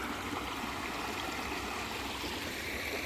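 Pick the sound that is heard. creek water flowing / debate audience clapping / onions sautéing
creek water flowing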